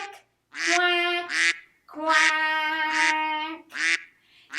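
A voice imitates a duck, giving a string of nasal, drawn-out quacks at close range, loud and uneven in rhythm with brief gaps between.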